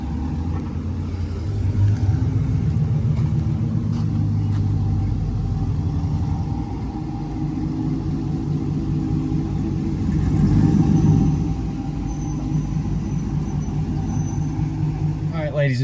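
A 5.3-litre V8 truck with long-tube headers and a straight-pipe exhaust, driving with a steady deep rumbling drone that swells briefly partway through, with people talking over it.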